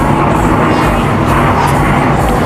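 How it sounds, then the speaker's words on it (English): An airplane passes overhead outdoors, a loud broadband roar holding steady throughout, drowning everything else, with no talking. "Excuse me, plane. We're trying to exercise here."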